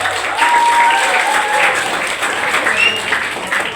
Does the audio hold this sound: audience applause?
yes